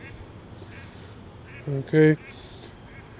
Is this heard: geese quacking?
yes